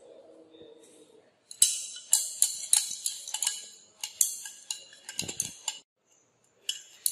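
Rapid metallic clinking of a stirrer against a glass or steel vessel as paracetamol powder is mixed into a propylene glycol syrup solution, a steady close tapping run that pauses briefly and resumes.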